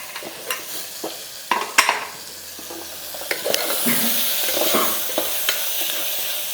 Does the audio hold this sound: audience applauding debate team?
no